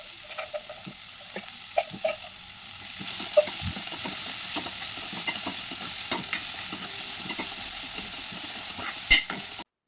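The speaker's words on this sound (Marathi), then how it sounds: "कांद्याला छान परतून घ्यायचं मग त्यात चिरलेल्या सगळ्या भाज्या टाकून द्यायच्या आहे" Spring onion and chopped vegetables sauté in a pan for a winter soup. Light clinks and stirring scrapes come first, then the sizzle swells into a steady close frying hiss, punctuated by spoon knocks and with no speech.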